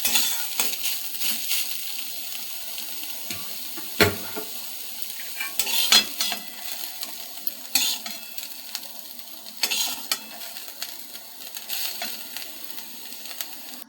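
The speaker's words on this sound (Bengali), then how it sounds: "থোড় ভাজা হয়ে গেছে, তুলে নিয়েছি" Banana stem (thor) frying in a little oil in a pan, a soft continuous sizzle broken by scattered metallic clinks and scraping stirs of a utensil, close by with no voices.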